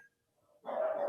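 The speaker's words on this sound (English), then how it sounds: "I'm gonna let those dogs bark" A dog barks once at moderate distance in a quiet room, a single short burst near the end after near silence, with no voices over it.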